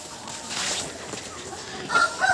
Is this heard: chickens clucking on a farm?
yes